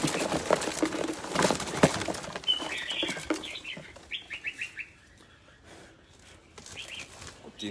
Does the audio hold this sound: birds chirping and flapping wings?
yes